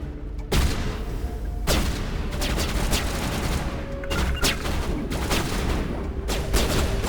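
Gunfire from the Mass Effect video game as a bartender is shot: loud, sustained bursts of rapid shots with heavy booming impacts, dense and continuous, with no voices.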